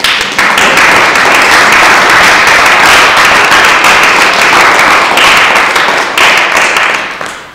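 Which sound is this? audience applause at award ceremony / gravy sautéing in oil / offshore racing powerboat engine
audience applause at award ceremony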